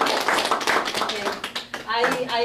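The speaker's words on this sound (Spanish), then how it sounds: "Un aplauso al hermano" A church class audience gives a short round of applause: steady, close clapping from a small group that thins out partway through, with some voices heard near the end.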